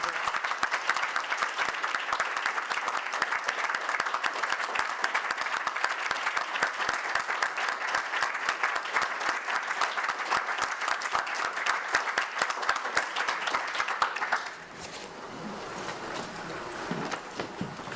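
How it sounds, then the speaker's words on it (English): An audience applauds a colleague at a theology panel on religious pluralism, a dense, steady clapping that holds for about fourteen seconds before thinning out and fading near the end. "offer up a first round of applause in recognition of our colleague Peter Finch"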